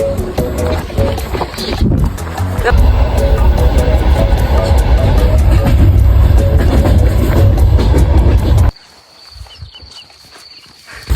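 A train travels at speed with a loud, steady rumble and rhythmic rattling for several seconds before cutting off to near quiet, with some background voices.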